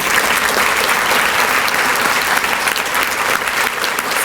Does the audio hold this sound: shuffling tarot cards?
no